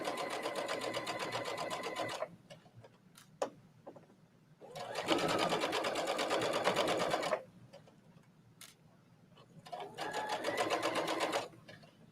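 A Brother sewing machine stitches fabric in three separate bursts, each a steady mechanical whir lasting about two seconds, with quiet gaps between them holding faint clicks and handling noises.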